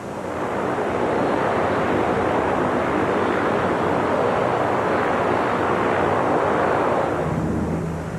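A P-3 Orion aircraft taxiing through a wall of fresh water spray meant to rinse salt from its engines and airframe gives a steady, loud roar of engines and rushing water that holds for several seconds with no voices.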